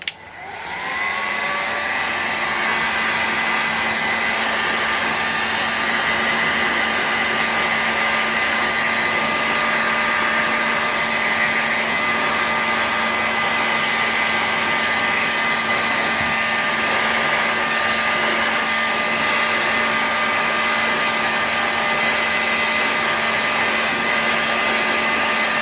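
Steady loud blowing roar of a heat gun warming an OS FS 70 model engine crankcase for bearing installation, running continuously with a faint whine and no pauses.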